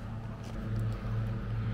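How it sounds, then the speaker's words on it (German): A supermarket's air conditioning unit gives off a steady, low mechanical hum, quiet and continuous outdoors. "was ihr hört, das ist die Klimaanlage hier vom Supermarkt"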